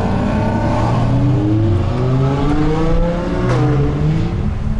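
Lamborghini supercars rev and accelerate on a mountain road near the Isola 2000 ski station, a loud continuous engine roar with rising and falling pitch sweeps as the cars climb past, no talking over it.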